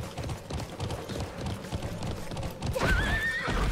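A galloping horse in the online racing game Alicia Online pounds out steady hoofbeats, then lets out a clear rising whinny near the end, all fairly close.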